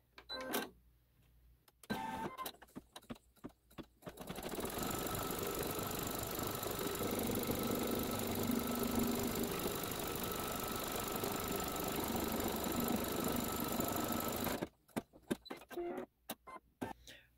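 A sewing machine stitching a satin stitch on a Santa's Workshop quilt block, a steady, loud mechanical whir running unbroken for about ten seconds, with small clicks and handling noises before and after.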